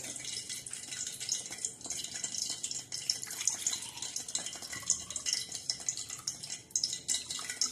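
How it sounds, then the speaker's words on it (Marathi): Water from soaked mung dal is drained off in a kitchen, a soft trickling and splashing with clinks of the vessel, running unevenly throughout with no voices. "तर आता आपण डाळीचं पाणी काढणार आहोत"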